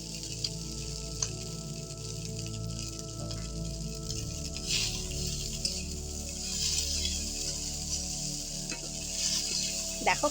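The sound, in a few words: stirring vegetables and sauce sizzling in a pan for Maggi noodles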